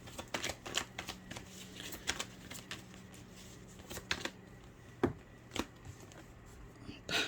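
Tarot cards being shuffled and drawn during a Taurus reading, with a run of soft riffling flicks and several sharper slaps as cards land, close and fairly quiet with a faint steady hum underneath.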